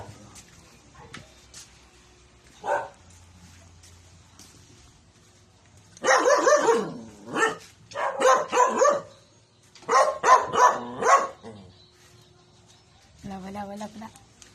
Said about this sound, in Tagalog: Doon ang maingay yung aso.